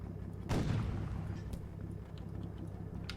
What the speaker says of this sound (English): Yep, definitely rifle fire.